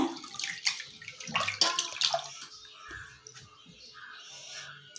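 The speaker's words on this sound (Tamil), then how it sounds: "பருப்பு வந்து ஃபஸ்ட்டு வந்து ஒன் டைம் வாஷ் பண்ணி எடுத்துக்கோங்க" Water sloshing and splashing in a bowl as lentils are rinsed by hand, with irregular wet swishes up close and a quieter trickle toward the end.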